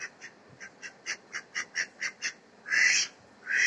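A duck that follows a cat around quacks in a quick, even series of about a dozen short calls, then gives two louder, longer quacks, close by with no talk.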